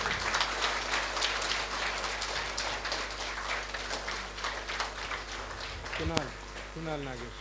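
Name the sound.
audience applause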